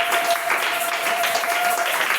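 A church congregation applauds at a service, a dense steady wash of many hands clapping that fills the room, with a faint voice or tone running underneath.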